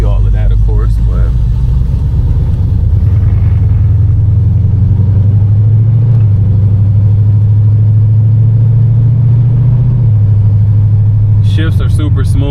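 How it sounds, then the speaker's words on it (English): A deep, loud V8 engine of a 1986 Chevrolet Monte Carlo SS rumbles steadily at close range, its pitch stepping up and settling a couple of times as gears change, with brief talk at the end. "shifts are super smooth. Just ran through 2 of them"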